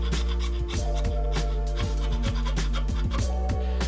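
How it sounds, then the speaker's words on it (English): Hand saw cutting dovetail pins in wood, steady rhythmic rasping strokes back and forth, close and loud, over a constant low background hum. "Cut the pins as you did the tails, staying just inside the layout lines and stopping just short of the depth line."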